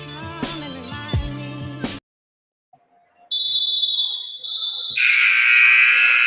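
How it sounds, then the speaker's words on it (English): A loud electronic buzzer sounds at a school basketball game, a sustained high tone that starts after a short silence and swells brighter and louder toward the end, following a burst of crowd and court noise. "They hit the buzzer."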